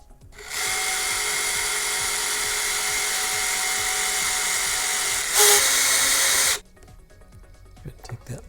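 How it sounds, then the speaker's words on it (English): A power tool grinding near a Boba Fett jet pack thruster at slow speed, a loud, steady, high whine held for about six seconds, briefly louder near the end before it stops abruptly, leaving faint background noise. "I want to be really careful that I'm not grinding away on the thruster itself."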